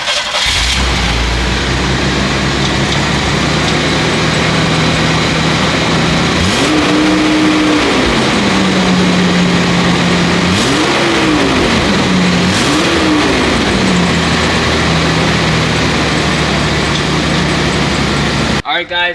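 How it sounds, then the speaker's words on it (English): A fully built 1993 Chevy S10 cranks and fires up, then settles into a steady idle broken by three quick revs that rise and fall, fairly loud and close, ending abruptly. "you'll hear the startup at least, and maybe some revs"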